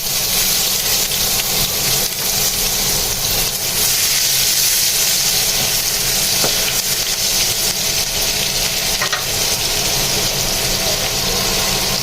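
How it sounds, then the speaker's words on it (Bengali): Onions fry in oil left over from frying hilsa fish, giving a steady, loud, close sizzling hiss that runs unbroken with no talk. "মাছ ভাজার তেলে দিয়ে দিচ্ছি পেঁয়াজ"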